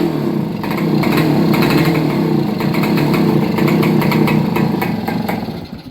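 A 1966 Yamaha YA6 barn-find motorcycle engine runs steadily after being restarted, a close, continuous buzzy putter with slight throttle fluctuations and no talking.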